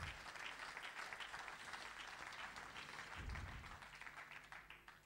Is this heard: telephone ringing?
no